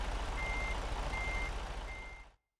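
Truck backing up a trailer in American Truck Simulator, with three evenly spaced reversing beeps over a steady low engine rumble before the sound cuts off.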